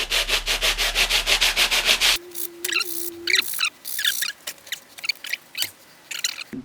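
Hand sanding smooths and bevels the edges of a workpiece, giving a loud run of rapid rhythmic rubbing strokes, then a short steady hum and sparser, separate scrapes.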